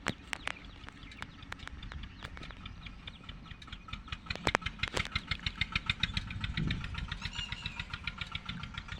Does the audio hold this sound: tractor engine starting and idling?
yes